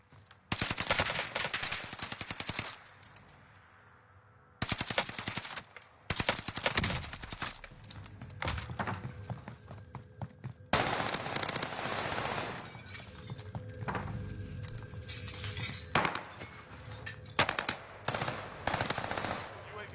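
Bursts of automatic machine gun fire from a Call of Duty match, loud and repeated in rapid volleys with brief pauses, mixed with other game gunfire and occasional voices talking over it.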